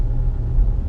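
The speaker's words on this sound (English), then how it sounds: "Car coming." A car rumbles by on a country road near Salisbury Plain, a low, steady engine drone close at hand for a brief moment with no talking.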